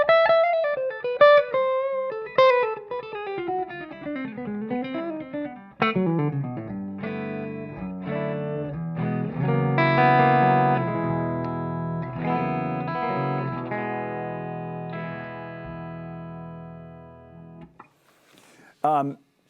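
Gibson Les Paul electric guitar played through a Jackson Ampworks Britain 4.0 amp on a clean, chorused setting, sounding clear single-note lines and then ringing, sustained chords, bright and close, ending after a brief pause.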